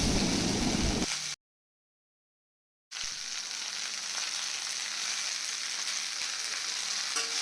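Sliced ridge gourd sizzles and fries in a pan while being stirred, a steady close hiss that cuts out briefly near the start and then carries on evenly.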